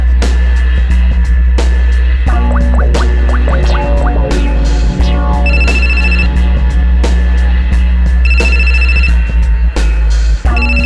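A telephone rings out while calling Rachna, with ringing tones sounding repeatedly over a constant loud hum and scratchy crackle, alongside sharp clicks and scattered electronic noises.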